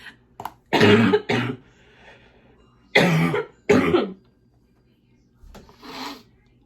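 A few sharp, harsh coughs in separate bursts, close to the microphone, with quiet pauses between them and a softer throat sound at the end.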